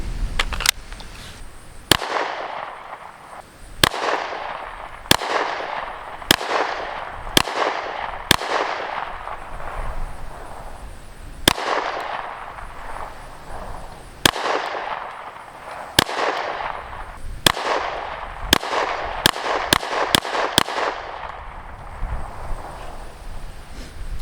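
A PSA Dagger pistol is emptied through a magazine at an outdoor range. Sharp, loud gunshots ring out at uneven intervals, each with a ringing decay, and the shots bunch into a faster string near the end.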